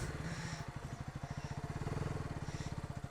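KTM Duke motorcycle engine idling nearby with a quick, even, thumping pulse throughout, fairly quiet and steady, with no voices over it.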